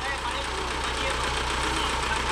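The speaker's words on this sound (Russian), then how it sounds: "Да, трактор." Large wheeled tractor engine running steadily nearby at a constant drone with a low hum throughout, with people talking over it outdoors.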